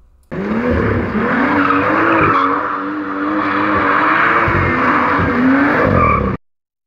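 A BMW M2 with a dual-clutch gearbox launches from a standstill on poor-grip tires, its loud revving engine and screeching tire squeal sustained for about six seconds before cutting off abruptly.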